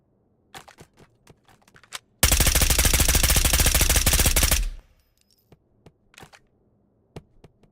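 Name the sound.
gunfire at a wall in Ghosts of Tabor video game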